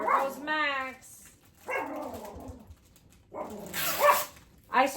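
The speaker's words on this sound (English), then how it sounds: "that dog barks at everything and anything that he thinks moves" Indoor dog barking in short bursts: a rapid volley of yips and barks, then separate barking spells after pauses, fairly close and moderately loud.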